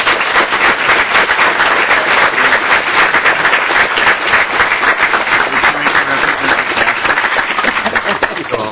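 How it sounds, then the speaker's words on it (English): Applause fills a House Ways and Means committee hearing room: dense, loud clapping from many people, sustained and even for the whole stretch before tapering slightly at the end. "Could we applaud?"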